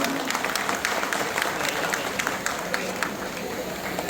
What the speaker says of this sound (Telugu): కరతల ధ్వనితో చప్పట్లు కొట్టాలని చెప్పి కోరుతున్నాను